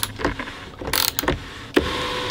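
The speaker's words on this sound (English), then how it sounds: "you can actually close the entire thing by only using the Torx bit" BMW E36 sunroof mechanism turned by hand with a Torx bit, producing close, faint mechanical clicks and gear whirs in short irregular bursts, with a sharper clunk near the end.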